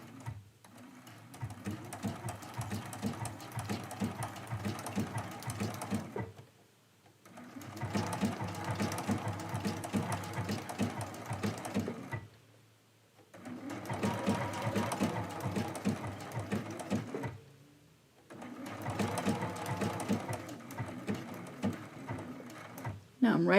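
A quilting sewing machine stitches a leaf shape on a mystery medallion quilt in four slow, even runs of several seconds each, with brief pauses between them and a voice talking over parts of it.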